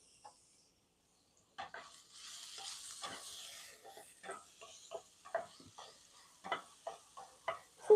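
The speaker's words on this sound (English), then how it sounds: "And then we'll go ahead and throw in our tomatoes." Tomatoes hit a hot pan during home dinner cooking, setting off a steady hissing sizzle, then scraping stirring strokes in an uneven rhythm, close and moderately loud with no talk.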